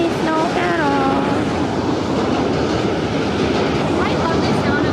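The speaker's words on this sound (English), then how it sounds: "I love the sound of the subway car, I will say." A New York City subway car rumbles past on a snowy day, a loud, steady roar with clattering wheels and brief squealing tones near the start, heard from close by.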